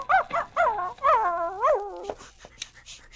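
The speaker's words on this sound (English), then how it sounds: "Isn't Tracy a smart dog, Walter? He can talk, can't you, Tracy? Speak up" In a radio drama, a dog gives a run of whimpering, yelping, howl-like cries with rising and falling pitch, close and clear, followed by a few faint clicks and softer sounds.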